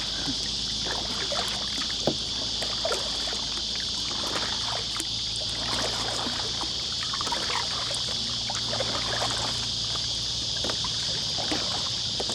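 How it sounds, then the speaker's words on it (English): A boat is paddled along Prospect Creek at Georges Hall, with repeated close paddle strokes splashing and dribbling water over a steady background hiss, loud and near, with no talking. "Instead of double paddling, right, just put a bit more effort into just one stroke."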